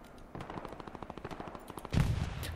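Machine gun fire in the World War II video game Hell Let Loose, a rapid even burst of shots rattling steadily, then a heavier louder blast near the end.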